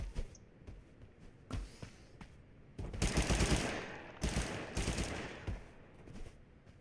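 Submachine gun fire in the video game Totally Accurate Battlegrounds, loud bursts of rapid automatic shots clustered in the middle of the stretch, with scattered single shots and game noise around them and no talk.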